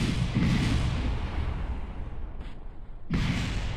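Explosions in a space video game rumble as a loud, dense roar that fades through the middle and then hits again with a fresh heavy boom near the end.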